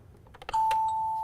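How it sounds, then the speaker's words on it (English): A toy doorbell gives a few soft clicks and then one sustained electronic chime tone, clear and close. "And there's a doorbell."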